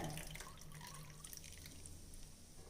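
Coconut milk is poured through a filter a second time, giving a soft, close trickle and dripping of liquid that is faint and steady, with no voices.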